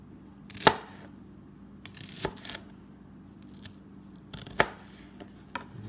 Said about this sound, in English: I'm just going to slice that into little rings like this here.